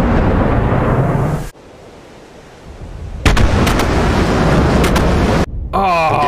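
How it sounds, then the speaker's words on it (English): Bombs dropping and exploding in a video game war simulation rumble in heavy, sustained blasts, broken by an abrupt drop to quiet before a loud burst returns, with sharp cracks and a brief whistling tone near the end. "look, the bombs are dropping"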